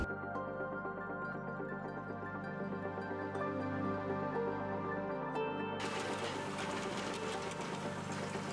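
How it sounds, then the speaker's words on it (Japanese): Industrial sewing machines run steadily in a Japanese denim factory where operators work standing at the machines, a dense continuous mechanical whir with rapid stitching texture that grows brighter and busier partway through. "みんなが座ってミシンを踏むんではなくて、みんな立って、ミシンを踏んでます。"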